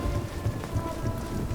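Steady, dense rainfall in the video game Starfield makes a continuous, even hiss with a low rumbling undertone, close and unbroken throughout.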